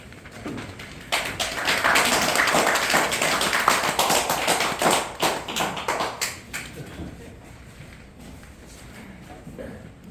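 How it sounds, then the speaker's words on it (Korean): Audience applause greets a feng shui lecturer as he comes out to speak, a dense burst of clapping that builds quickly, holds for several seconds, then thins out to scattered claps. "나오실 때에 특별한 박수를 좀 부탁을 드리겠습니다."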